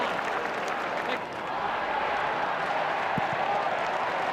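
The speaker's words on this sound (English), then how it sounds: "Crowd finding voice again." Dense crowd noise from a football stadium during an AFL match between West Coast and St Kilda in 2012, a steady distant roar of cheering throughout with a commentator talking over it.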